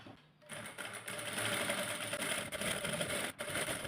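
A sewing machine stitches a goto trim border onto a blouse, starting after a brief quiet moment and then running as a continuous fast whirring needle rhythm with small stutters, close and steady.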